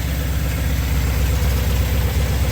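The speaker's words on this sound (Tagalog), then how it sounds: "napakatinig na ng andar ng makina" A Honda CR-V engine idles steadily after a tune-up, a close, even low rumble with a fine regular pulse running throughout with no talk over it.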